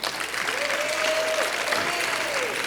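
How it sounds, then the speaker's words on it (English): Audience applause for panelists at a community discussion event, a dense steady wash of many hands clapping together, loud and continuous throughout, with a faint tone gliding underneath. "Give them a round of applause."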